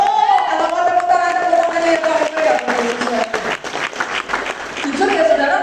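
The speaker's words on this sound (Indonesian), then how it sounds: "Oh, kalau mau tepuk tangan" Applause from a church congregation during a sermon, clapping and cheering that carries on under an ongoing spoken voice and a sustained tonal sound.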